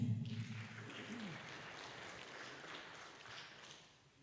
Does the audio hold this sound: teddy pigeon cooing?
no